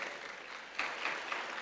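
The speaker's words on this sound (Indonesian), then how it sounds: "berikan tepuk pada mereka" Audience applause at the opening ceremony of DIA Fest 2023, a digital and imaging art festival: a brief burst of dense clapping from a modest crowd, swelling slightly midway, with no speech.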